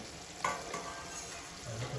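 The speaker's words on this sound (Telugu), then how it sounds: "ఒకసారి కలుపుకొని మూత పెట్టుకోవాలి." Tomato curry is stirred in a pot just before the lid goes on: a soft close sizzle with a scrape or clink, then a brief low stirring.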